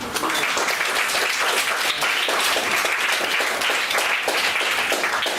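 Students at a school applaud, a steady burst of many hands clapping together, loud and close, sustained at an even level for several seconds.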